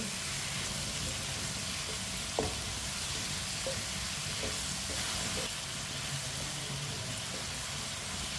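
Potatoes and capsicum cooking in a pan give a soft, steady sizzle with a few light stirring clicks and taps, quiet and continuous with no talking.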